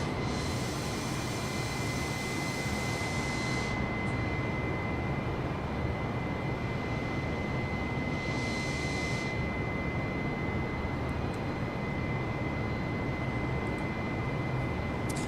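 Steady, loud broadband roar of an aircraft's engines heard from outside the aircraft, continuous throughout with a constant whining tone on top and no voices.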